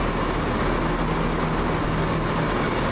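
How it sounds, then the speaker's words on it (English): A British Rail Class 170 train arriving at Glasgow Queen Street low level station rumbles steadily nearby, a continuous loud mechanical roar with a faint hum, no voices. "here is our train now"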